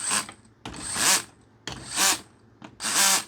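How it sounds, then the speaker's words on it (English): A power drill fitted with a capping attachment spins caps onto bottles in a small workshop: three loud whirring bursts, each lasting about half a second and rising and falling, separated by short pauses, close to the microphone. "We use this drill with this attachment."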